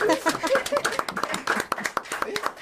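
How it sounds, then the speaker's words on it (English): Scattered applause from a small audience at a student blind-date event, uneven claps that rise and thin out over a couple of seconds, fairly close, with a few voices mixed in. "I want to see a little bit of applause, please."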